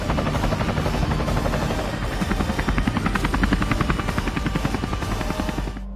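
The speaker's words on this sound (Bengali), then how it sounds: "ওর জন্য নাকি হেলিকপ্টার বানাচ্ছে।" A helicopter sound effect from a Bengali drama, with a steady rotor chop and engine whine holding loud and even for about six seconds before cutting off abruptly.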